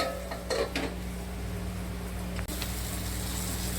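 A lid goes onto a pot of green chili curry cooked with milk: a few light metallic clinks, then one short clunk partway through, over a steady low hum.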